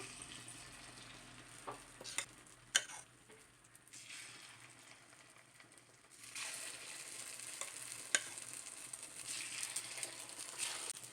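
Egg paniyaram batter with vegetables sizzles in the oiled cups of a paniyaram pan, a steady close frying hiss with a few sharp crackles and clinks, growing louder in the second half.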